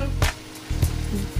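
A codfish cake drops into a hot pan on medium heat, followed by a soft sizzle with a few brief bursts of louder frying over a steady hiss.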